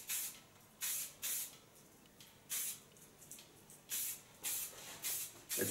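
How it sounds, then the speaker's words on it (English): Lanza hairspray is sprayed onto hair in about nine short, close hissing bursts, some paired in quick succession, with quiet pauses between. "I use a little bit hairspray, not much. Take hairspray of Lanza."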